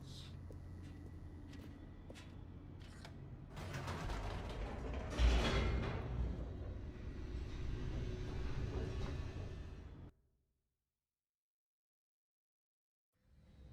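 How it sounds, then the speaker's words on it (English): Elevator plunging downward in The Stanley Parable, a loud mechanical rumble with creaks and rattling gears that swells midway, then cuts off abruptly into silence. "The elevator raced downward, plummeting towards an unknown fate."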